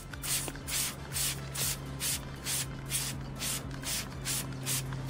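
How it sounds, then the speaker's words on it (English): A spray bottle mists wheel cleaner onto the chrome outer lips of a car wheel in a rapid series of about a dozen short, even hissing squirts, close and clear, with no talk. "few sprays on these chrome outer lips"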